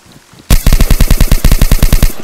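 A loud, close burst of automatic gunfire in DayZ, about sixteen evenly spaced rapid shots after a quiet moment, ending abruptly.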